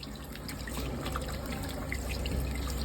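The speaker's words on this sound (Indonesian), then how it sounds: "Kita kita bilas menggunakan air mengalir agar air yang kita gunakan tidak terkontaminasi." Hands are rinsed under a running tap, a steady close splashing stream with small irregular drips and spatters continuing throughout, no talking.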